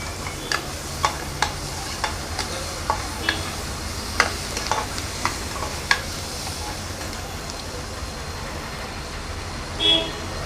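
Tomato and garlic sautéing in a pan, a quiet steady sizzle with a series of light spatula taps and scrapes against the pan, then a brief different clatter near the end.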